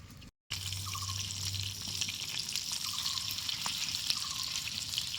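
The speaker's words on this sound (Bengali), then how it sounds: "একে একে এরকম দিয়ে সব মাছগুলোই ভেজে নেব।" Rohu fish pieces fry in hot oil in a pan with cabbage, a steady close sizzle with faint crackles and a brief dropout near the start, with no talking.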